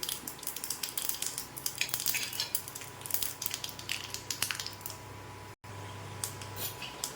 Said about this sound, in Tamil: தாளிப்புக்கு ஒரு கரண்டி வச்சு கல்லெண்ணெய் ஊற்றிருக்கிறேன், கடுகு போட்டிருக்கிறேன்